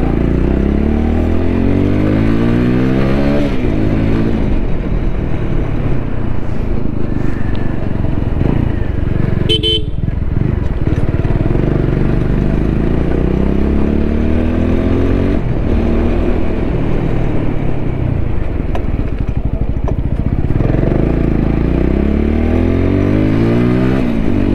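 A TVS Apache motorcycle is ridden on the road, its loud engine repeatedly revving up and dropping through gear changes, with wind rush and a brief clatter midway.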